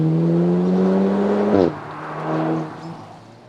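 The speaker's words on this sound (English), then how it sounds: "One thing we really like is the robust roar of the TTS, which sounds like a lot more than just 2 litres." A 2-litre Audi TTS Roadster engine roars nearby, a strong rising drone that shifts down sharply, then surges again briefly before fading, with no talk over it.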